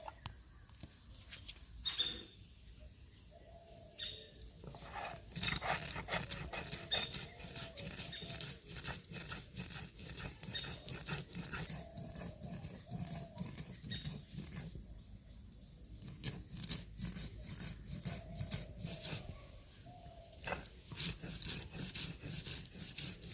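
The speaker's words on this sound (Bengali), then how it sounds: "এবার ইলিশ মাছ রান্নার জন্য আমি সরষেটা বেটে নিচ্ছি" Mustard seeds ground by hand on a grinding stone for a hilsa fish dish, giving repeated rough rubbing and scraping strokes in a steady back-and-forth rhythm, close and moderately loud, with short pauses between runs.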